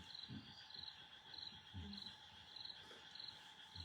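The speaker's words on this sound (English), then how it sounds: "we have the frogs singing mantras here." Frogs calling at night in the snowy fields of North Sweden, a steady chorus of regular, pulsing trills at moderate distance, faint and continuous with no voices.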